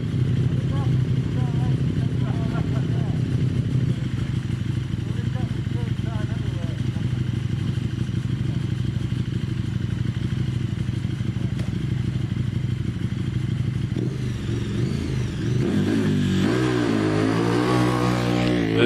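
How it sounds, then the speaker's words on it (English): Road-going KTM motorcycle at the Prescott hill climb, a continuous engine drone that holds steady and then rises into revving near the end, with a commentator speaking over it. "this is Stu Mills on the road going KTM"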